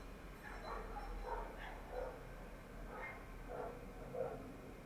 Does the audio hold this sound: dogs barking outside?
yes